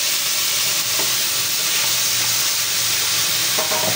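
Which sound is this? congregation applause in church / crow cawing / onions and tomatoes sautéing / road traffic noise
onions and tomatoes sautéing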